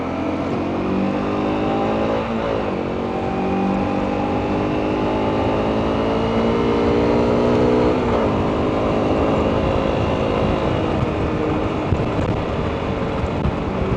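A Honda CRF motorcycle accelerates with a steady, loud engine drone whose pitch climbs and shifts through gears, wind rushing over the microphone throughout, no voices.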